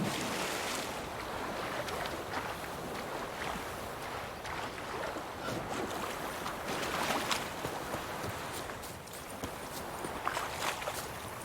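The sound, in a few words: stream water flowing in The Witcher 3 video game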